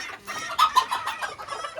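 Brahma Buff chickens cluck in a short burst of several close, bright calls, with no voices nearby.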